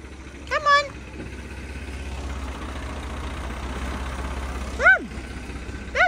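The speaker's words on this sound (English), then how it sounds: "Quick, come see the tractor." A heavy tractor engine idles with a low, steady rumble on a farm in Portugal while a child calls out briefly a few times over it.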